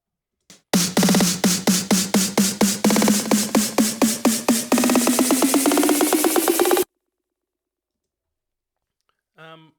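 A snare roll processed with a reverb effect from the RST6 plugin, rapid repeated hits that speed into a dense buzz before cutting off abruptly, loud and close, followed by silence and a brief voice.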